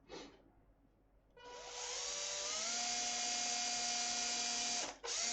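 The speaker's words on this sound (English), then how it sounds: "So I'm actually drilling into the end of it just to create a little dimple." A drill bit bores a small dimple into the end of a spinning workpiece, lathe-style: a loud, steady high whine that starts abruptly after a quiet moment, holds for several seconds, then cuts off briefly before resuming.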